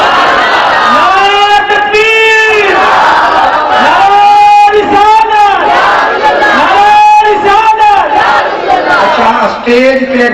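A large crowd at a religious gathering for Eid Milad chants the takbir slogan in loud, repeated rhythmic unison shouts, with sustained voices swelling and falling in waves throughout.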